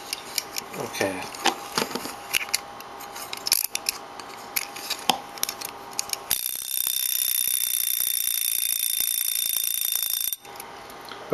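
A mechanical timer goes off, first with some clattering mechanism noises and voices, then a loud continuous metallic ringing buzz for about four seconds before it cuts out abruptly.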